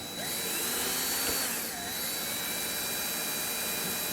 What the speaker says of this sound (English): Let the drill work itself through